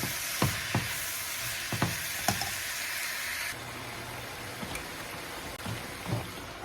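Onions and peppers cook down with cabbage in a pan, giving a soft, steady sizzle broken by occasional louder stirring scrapes and taps; the sound grows slightly quieter partway through.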